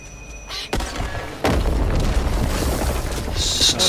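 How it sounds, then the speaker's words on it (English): An explosive barrel blowing up in the cooperative zombie first-person shooter Back 4 Blood: a short thump followed by a second, larger boom that leaves a loud, sustained rumbling roar trailing on. "Was there something explosive that the second explosion was in?"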